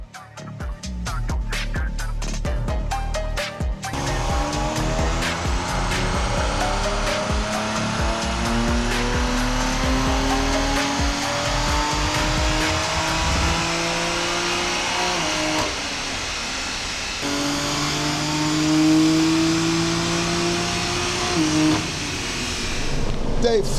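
A crash-damaged BMW M2 Competition with a swapped B58 engine runs on a dyno, loud and close, its engine note climbing steadily through long pulls, briefly dropping off and then rising again.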